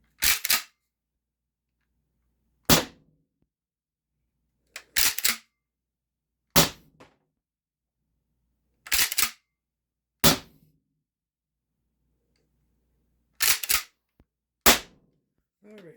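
Sharp, loud single shots from an Umarex HDX68 HPA air rifle emptying its magazine, about ten cracks at irregular intervals, some fired in quick pairs, separated by near silence.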